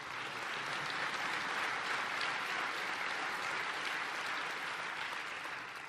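Audience applause at an Obama speech in Estonia, a dense, sustained clapping roar from a large crowd holding steady throughout at moderate distance.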